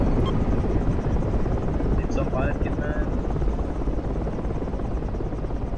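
A military helicopter engine drones steadily in the tactical shooter game Project Reality. The whirring rotor hum is constant and fairly loud throughout, with players' voices talking over it.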